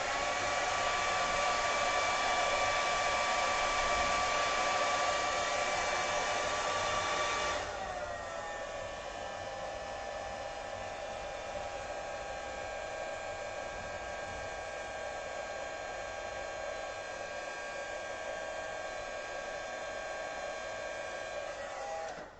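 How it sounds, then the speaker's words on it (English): A hairdryer blowing steadily over a wet watercolour painting of a daisy, a continuous close whooshing hiss that drops to a lower, quieter setting about a third of the way through and then runs on evenly. "I think I'm going to take my hairdryer to this."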